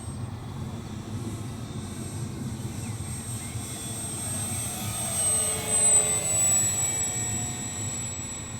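A Piper Cub model airplane's engine drones steadily in flight while it makes gentle coordinated turns, the hum holding a constant pitch and swelling a little louder as it passes nearer toward the end.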